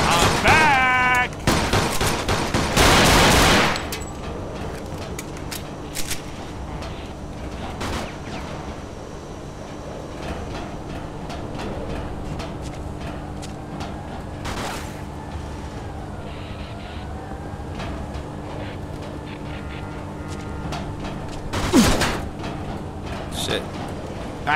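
Rapid bursts of gunfire crackle loudly in the Mafia II video game at the start, then fade into occasional shots under shouting game-character voices and background rumble.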